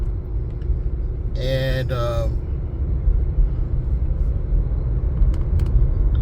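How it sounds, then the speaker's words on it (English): A 2017 Ford Fiesta being driven, heard from inside the cabin as a loud, steady low road rumble and engine drone, with someone speaking briefly over it. "I recently got a 2017 Ford Fiesta I'm driving"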